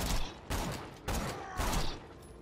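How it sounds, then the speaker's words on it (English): A magic missile spell fired repeatedly in the Tiny Tina DLC, four punchy blasts spaced about half a second apart, loud and close amid game noise. "I want to shoot magic missile."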